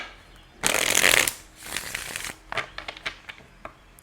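A Message of Love Oracle deck is shuffled in quick bursts: a loud riffling flurry, then softer crisp card shuffles and a few separate taps, close by with no talking.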